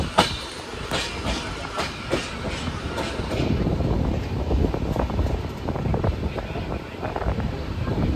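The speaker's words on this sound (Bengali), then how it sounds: "আমাদের ট্রেন সামনে কার্ভ নিয়ে লুপ লাইন থেকে মেন লাইনে প্রবেশ করছে।" A Shantiniketan superfast express from Bolpur to Howrah takes a curve from a loop line onto the main line, with rhythmic clickety-clack of wheels over rail joints and heavy wind rush, loud and continuous throughout.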